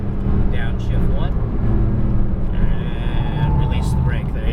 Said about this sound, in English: A little harder brake here. Downshift one.